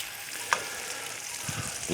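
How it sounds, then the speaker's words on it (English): Sweet onions sizzle and fry steadily in a pan, a soft continuous crackle with a few faint clinks and stirring sounds, a quiet voice murmuring briefly near the end. "It's just something about onions cooking"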